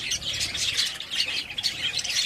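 Several young budgerigar chicks in a breeding pot chirp and squawk continuously in a dense, high-pitched chatter, close and fairly soft, with no talking.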